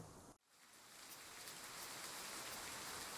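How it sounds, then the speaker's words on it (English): Steady rain pours down onto scorched asphalt after sunset, a dense even hiss that starts after a brief dip and then holds constant, soft and distant with no voices. "After the sun had gone down, it suddenly began to rain."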